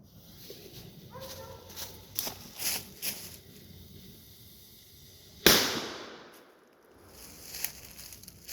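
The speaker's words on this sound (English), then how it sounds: "That was an M800. Kind of like a little salute thing." An M800 firecracker dropped into a pumpkin outdoors goes off in one sharp, loud blast after a few seconds of faint rustling and footsteps, and the bang fades quickly.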